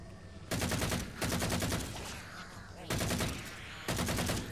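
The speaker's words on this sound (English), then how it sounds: "And another dropship making a nuisance of itself. Who should be from behind? Oh, I'm being strafed." Strafing gunfire from a dropship in Halo 4 tears through in loud, rapid bursts, three or four sustained volleys with brief gaps between them, close and dominating.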